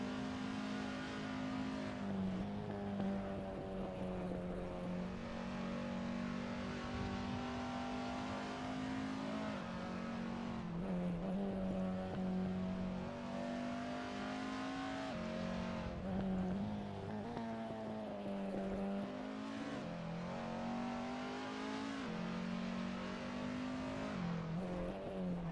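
A race car in Assetto Corsa during a 24-hour endurance race, its engine droning and revving steadily with pitch shifts through the gears and brief lifts, loud and continuous with no talk.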